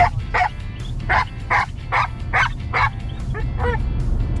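An 11-month-old Norwegian Elkhound puppy barks in a quick series of about eight sharp, close barks over a low rumbling background.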